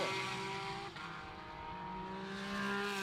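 A pack of race cars, including a BMW M4 GT4 and Mazda MX-5s, passes on a circuit in a blended engine drone that swells and shifts pitch, heard from a moderate distance.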